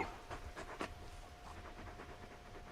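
A large dog pants in quick, steady breaths close by in Final Fantasy XVI, with a faint constant tone underneath and no talking.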